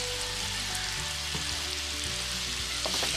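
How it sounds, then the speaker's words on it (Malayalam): Sliced onions sauté with salt in a pan, making a continuous close frying sizzle with a low steady hum beneath and faint stirring touches, with no talking. "സവാള ഒന്ന് വേഗം വഴന്ന് വരാൻ ഇത്തിരി ഉപ്പ് ഇടാം."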